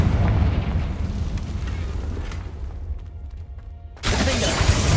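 Confringo blasting spell explosion: a long, loud rumbling roar that fades slightly, then a sharp new blast breaks in near the end and carries on at full strength.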